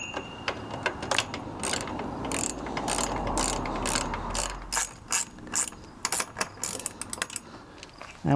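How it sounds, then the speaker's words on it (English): A ratchet wrench tightens a nut onto a new ATV trailer hitch, close-up clicking pawl strokes in repeated rapid bursts with short pauses between them. "And get the nut on there."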